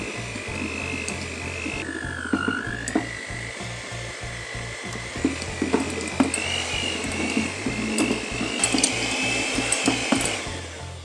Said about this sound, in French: Vous pouvez continuer avec les crochets de votre batteur.